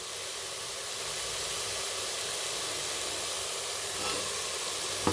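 Bottle gourd and other ingredients frying in a pan while making bottle gourd payasam, a steady close sizzle and hiss running unbroken throughout with no voices.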